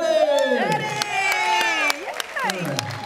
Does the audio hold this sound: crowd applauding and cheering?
yes